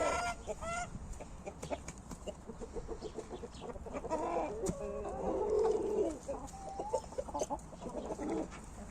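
Chickens cluck and murmur close by in a busy, irregular stream, with a few louder squawks.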